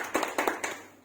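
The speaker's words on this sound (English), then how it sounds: "So big round of applause for Sunil over there." A few scattered hand claps from a small audience, three or four brief bursts in quick succession, close and moderately loud, fading out within a second.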